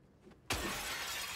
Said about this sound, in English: I hate breaking the glass. It's so fucking loud.